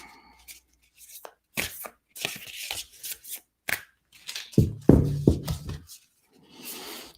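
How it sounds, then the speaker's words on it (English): A deck of tarot cards being shuffled in short bursts of riffling and sliding, with pauses between, fairly close and moderately loud, no talking over it. "I just keep shuffling until I get the signal."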